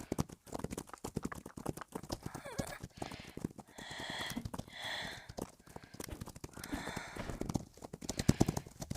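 Horses galloping in the Roblox game Wild Horse Island, a fast, continuous clatter of hooves with whinny-like bursts, while a voice talks over the sound throughout.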